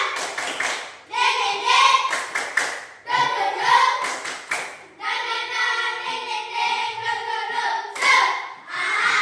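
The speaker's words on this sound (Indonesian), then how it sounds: "tolong tepuk semangat dulu 3 kali" A group of primary school children in a scout-themed classroom perform a rhythmic spirit cheer, chanting in unison with sharp hand claps in short bursts separated by brief pauses, close and fairly loud.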